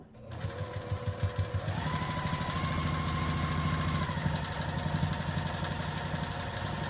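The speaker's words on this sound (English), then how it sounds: "I'm just going to sew all the way down at 1/4 of an inch" A sewing machine runs steadily while stitching a quilt block at a quarter-inch seam, its fast mechanical chatter continuous and close, with a shift in pitch partway through.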